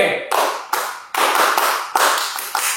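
Synchronized group clapping at a GPIB youth worship gathering in Bandung: about six crisp, loud unison claps in a steady beat, each with a short reverberant tail, no talk over it.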